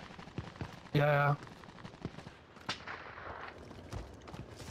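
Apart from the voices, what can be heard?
gunfire in a video game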